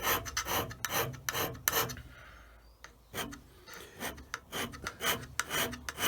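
A hand scraper draws individual short strokes across metal while a straight edge is trued, each pass a rasping scrape about 1.5 inches long, repeated in a steady rhythm with a brief pause midway, close and fairly loud.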